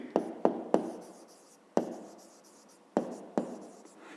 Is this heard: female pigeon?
no